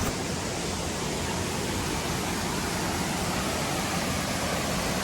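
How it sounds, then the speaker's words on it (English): Distant waterfall on a hike at Nogalito Ecopark near Puerto Vallarta, a steady broadband rushing roar that stays even throughout with no talking. "if you listen closely, you can hear the falls in the distance"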